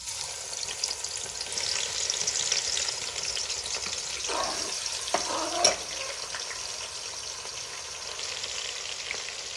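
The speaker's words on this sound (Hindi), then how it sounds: "एक प्याज का टुकड़ा डाल के देखो, हो गया गरम" Onion pieces fry in hot oil for beef nihari, giving a steady, close hiss and crackle that runs throughout, with a couple of brief stirring clinks in the middle and no talking.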